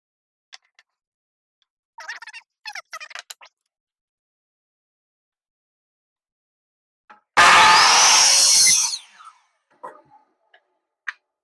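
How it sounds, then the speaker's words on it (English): A miter saw makes one short, loud cut through a wooden fence picket in a quiet workshop, with scattered light clicks and handling noises before and after it. "And I'm gonna head over to the miter saw here."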